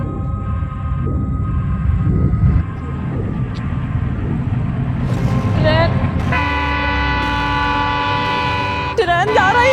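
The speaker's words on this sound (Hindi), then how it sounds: "ट्रेन जा रही है" Passing train sounding a long, steady horn that swells in the second half, with rolling rail noise underneath and people talking over it throughout.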